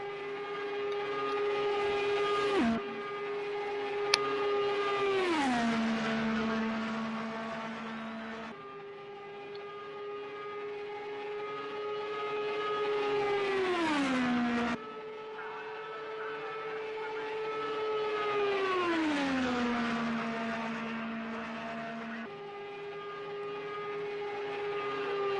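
In Project Cars 2, an Indy race car running Indianapolis 500 time trials screams past again and again, each pass a loud, high engine whine that drops sharply in pitch as it goes by.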